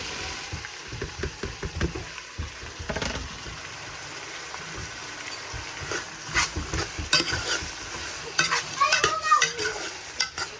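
Onions, added to a pan with ginger and cardamom for a lamb and beef curry, fry with a soft sizzle. A spoon scrapes and clatters against the pan in irregular strokes, and the stirring grows busier toward the end.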